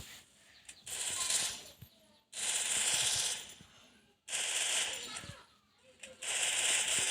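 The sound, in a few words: gunfire in a shooting video game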